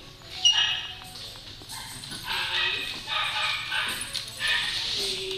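A puppy plays with another dog at a dog daycare, giving sharp yips and excited barks amid scuffling, with a person talking nearby.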